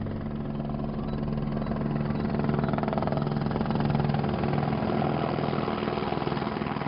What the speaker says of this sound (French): Nous ne voyons que son messager, l'hélicoptère.